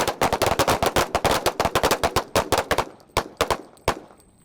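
Gunfire from a shooting drill, a rapid string of loud, sharp shots in quick groups that thin out toward the end, with no talking over them.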